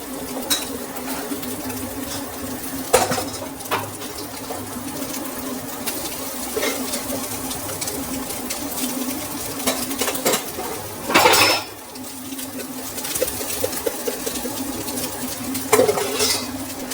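Cooked rice tipped into a pan for egg fried rice and stirred, with scattered metallic clinks and scrapes of a utensil against the pan over a continuous low kitchen hum, a louder scraping burst near the end.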